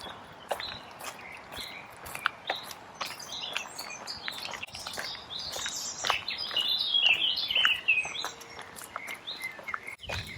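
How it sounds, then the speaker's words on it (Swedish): Birds sing among old trees along a residential street with streetlamps, giving busy, overlapping chirps and trills at moderate distance, joined by a few soft footsteps. "Vilken fågelsång."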